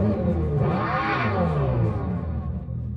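Simulated exhaust sound from a 2024 Dodge Charger Daytona SRT concept electric muscle car: a deep, loud rumbling roar that swells and revs up, then settles into a lower growl.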